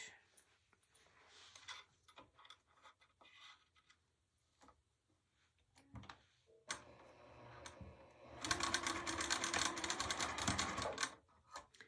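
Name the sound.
sewing machine sewing edge of bag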